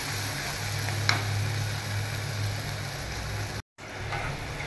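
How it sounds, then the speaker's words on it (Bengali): Mustard paste made with ginger, green chilli and yogurt sautéing in a pan, giving a steady close sizzle with one brief stir or clink partway through and a short dropout near the end. "এবার সর্ষে এই পেস্টটা দিয়ে আমি একটু কষিয়ে নিলাম।"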